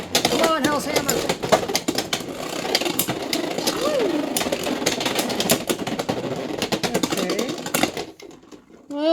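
Takara Tomy Beyblade X tops, WizardArrow and HellsHammer, launched with a winder launcher and battling in a stadium, giving dense rapid metallic clatter and whirring collisions for about eight seconds before stopping, with speech mixed in.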